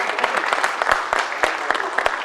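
Audience applause at a televised Indian 50th-episode celebration, a dense burst of clapping with sharp individual claps standing out, steady and moderately loud throughout.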